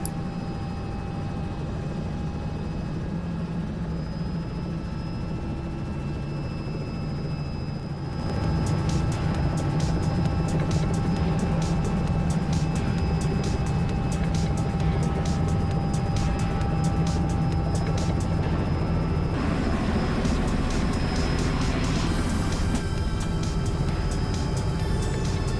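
A Robinson R66 turbine helicopter spools up and lifts off, its steady turbine whine and rotor drone growing louder after the first few seconds and holding strong and close, with a shift in tone near the end as it departs.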